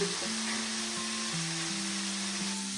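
Chicken pieces fry lightly in a pan, giving a steady soft sizzle that runs for the whole stretch at a moderate level, with a faint low hum underneath.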